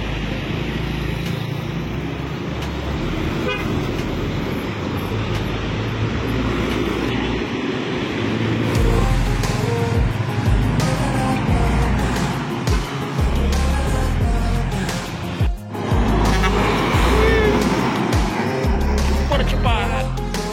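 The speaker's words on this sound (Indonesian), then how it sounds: "ini masuk tol juga di gerbang Indapuri. Simpati Star Volvo." Heavy engine rumble from a Volvo bus rolling past at close range as it enters a toll gate in Aceh, with a steady roar and traffic noise around it and a faint voice in the background.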